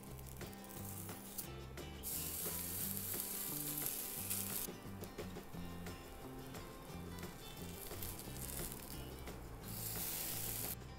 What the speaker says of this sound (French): Vous pouvez les former avec vos mains et légèrement les aplatir en les faisant cuire.